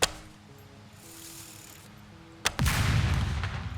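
A bow loosing an arrow in the survival video game SCUM, a sharp sudden snap followed by a louder rushing burst of game noise, with no talking.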